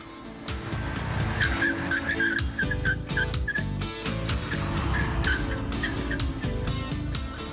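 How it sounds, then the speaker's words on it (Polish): Renault Clio V6 braking hard on a test drive, with loud, steady engine and road roar throughout and repeated short tyre squeals cutting through near the middle and again later. "Samochód świetnie hamuje."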